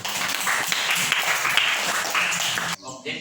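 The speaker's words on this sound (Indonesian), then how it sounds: "Tepuk tangan dulu" Classroom applause during a school lesson: steady dense clapping from a group of students, fairly close and continuous, ending abruptly with a brief pause.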